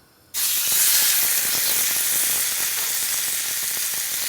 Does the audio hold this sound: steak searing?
yes